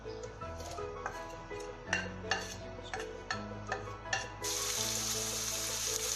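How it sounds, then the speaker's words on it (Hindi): Onions sautéing in the hot oil left over from frying okra for masala bhindi. A steady sizzle runs throughout, with occasional spoon clinks against the pan, and the frying grows louder and brighter near the end. "प्याज को हम सौते करेंगे।"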